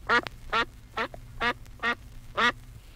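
Six evenly spaced nasal honks from a goose, each short and bright, ring out loud and close in a steady rhythm over a low continuous hum.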